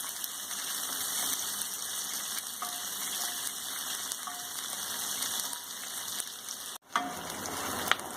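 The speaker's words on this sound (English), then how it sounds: "We'll saute these onions for a few minutes till they are light golden in color" Onions sautéing in a pan give a steady, fairly quiet sizzle and crackle throughout, with a few light clinks and a brief scrape near the end.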